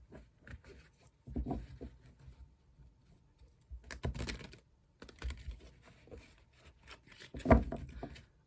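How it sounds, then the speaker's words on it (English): Close, quiet hand-shuffling of a tarot card deck, with soft irregular flicking and tapping of cards, short louder riffles, and a sharp snap near the end. "One more shuffle for you."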